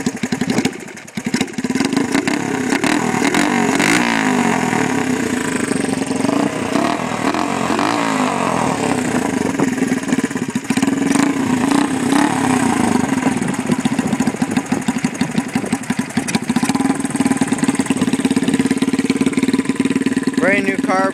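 A custom motorcycle bobber with a straight pipe exhaust and a rebuilt carburetor runs steadily in a close, loud, continuous rumble throughout, with no talking over it.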